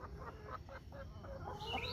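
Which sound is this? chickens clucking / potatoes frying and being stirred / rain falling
chickens clucking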